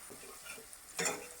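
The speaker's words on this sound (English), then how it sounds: "once the onions are getting fried" Onions fry in a pan for a Bengali chicken bharta, with a soft steady sizzle and faint stirring clicks, then a brief louder hiss near the end, close and quiet.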